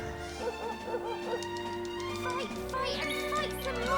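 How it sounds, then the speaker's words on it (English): Sandy the dog barks in Dragon Quest XI amid game music, with short yipping calls against tonal melody and a voice talking over it. "Sandy has barked at the right-hand Smog, letting the hero attack successfully"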